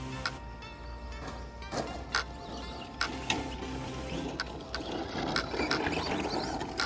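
A DR10 RC drag car runs on a backyard dirt track, giving a faint whirring motor hum broken by repeated sharp clicks and ticks at irregular intervals.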